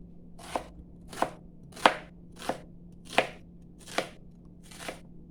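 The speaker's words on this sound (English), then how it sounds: "Now I'm going to slice some onions" An onion being sliced into thick slices on a cutting board, seven evenly spaced knife strokes each ending in a crisp thud, close and alone over a low background hum.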